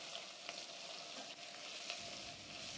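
Chapila fish seasoned with salt and turmeric fry in hot oil in a pan, giving a steady, dense sizzle with small pops throughout, quiet and close.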